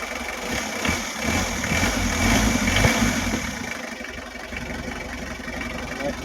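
A Mitsubishi L300 with a 4D56 diesel engine, being worked on for hard starting, cranks and catches, then settles into a rough idle with a brief rise in revs, heard up close with faint voices nearby.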